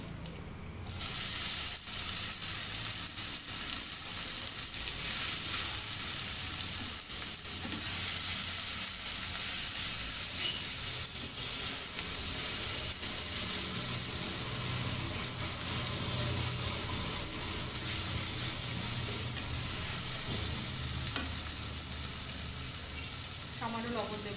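Grated pumpkin tipped into hot oil with dried chilli sizzles and fries steadily and loudly for the whole stretch, with occasional stirring scrapes over the constant hiss and no talking.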